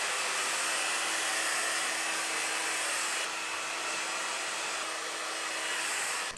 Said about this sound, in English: let's go blow dry this